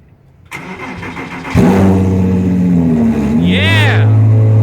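A 2006 Porsche Cayman S race car starts up close by. After a short cranking burst, the engine catches and flares into a loud rev, then settles into a deep, steady idle with one more quick blip. A voice is heard faintly underneath.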